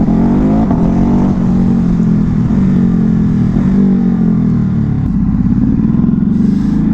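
A Ducati Hypermotard engine pulls hard under acceleration, its loud, close exhaust note climbing in pitch through rising sweeps with a brief dip before building again.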